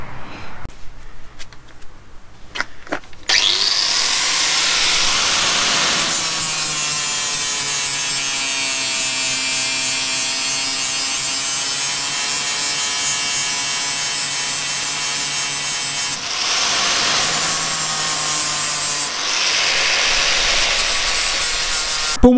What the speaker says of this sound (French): il ne reste plus qu'à limer ici les soudures sur le dessous